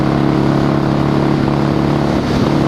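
A 26-year-old Harley Davidson motorcycle accelerating toward top speed on a bridge, its engine a loud, close, continuous roar with a steady throbbing drone that barely varies, with no talking over it.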